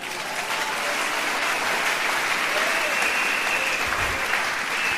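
A church congregation applauds during a worship service, producing a sustained, even roar of clapping from many hands that continues unbroken from start to finish.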